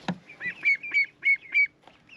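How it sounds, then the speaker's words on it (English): Garden ducks give a short run of about five nasal quacks in a steady rhythm, close and fairly loud, with a soft thump at the start. "Stay in there, little duckies."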